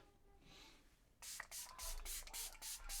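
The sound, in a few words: setting spray being sprayed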